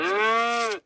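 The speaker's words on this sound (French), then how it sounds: "vous y allez où il y a cette vache-là" A single cow moos once, a loud close sustained low call with a rich tonal quality lasting under a second, then stops cleanly.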